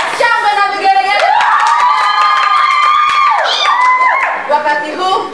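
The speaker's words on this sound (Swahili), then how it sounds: "Shangwe na vigelegele" A church audience at a ministry drama event cheering and ululating, loud high trilling voices that rise and overlap close by, with scattered shouts and a little clapping mixed in.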